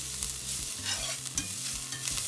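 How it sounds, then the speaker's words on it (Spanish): Garlic frying in a cast-iron pan, a steady soft sizzle with faint scraping stirs, close and fairly quiet, no voices. "Ahora sí vamos a meter el ajo para que se vaya sofriendo también."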